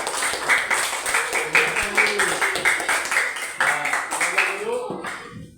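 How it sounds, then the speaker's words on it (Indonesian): Schoolchildren in a classroom clap together after group presentations, a fairly close, uneven patter of many hands that dies away near the end, with talking mixed in. "Tepuk tangan dulu untuk semua yang sudah tampil."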